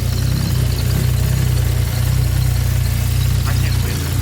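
A Nissan GT-R engine idles steadily and loudly nearby with a deep, even rumble that stays constant throughout.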